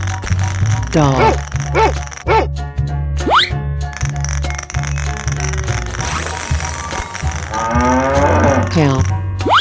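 A cartoon cow in a 3D animal slide game moos over a bouncy, looping game soundtrack, with the lowing calls rising and falling several times amid playful effects.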